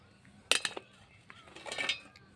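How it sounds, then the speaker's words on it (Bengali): Beetroot and coriander pieces dropped into a kitchen mixer jar for juice, giving a few quick clinks and knocks against the jar, then a softer clattering burst, all fairly quiet and close. "মিক্সি জারের মধ্যে ওগুলো দিয়ে দিচ্ছি"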